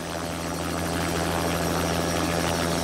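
A helicopter flies over jungle, its steady rotor chop and engine drone loud and close throughout, with no voices.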